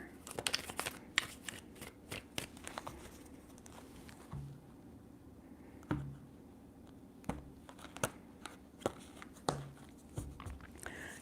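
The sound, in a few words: tarot cards being shuffled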